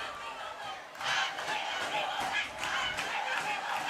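A crowd at a Titusville high school football game roars and chants as it gets hyped up, a distant, rising swell of massed voices.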